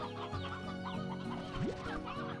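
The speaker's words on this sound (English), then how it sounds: "we're really just like farming these chickens." Chickens cluck on a video game farm, several birds close together making busy, overlapping clucks and short squawks in a steady, lively stream, with no talking.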